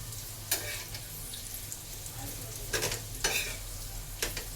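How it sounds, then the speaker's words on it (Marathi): Bitter gourd fries in oil with a soft, steady sizzle, broken by several brief scraping stirs, close and fairly quiet with no talking. "हे मस्त फ्राय करून घेते"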